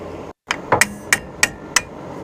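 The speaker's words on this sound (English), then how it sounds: "So all I'm doing is just pecking it down to get those clips to release." A screwdriver pecks at the rear brake pad clips on a 2011 Ford F-150, giving five sharp metallic taps at a quick uneven rhythm, close and crisp, with no talking over them.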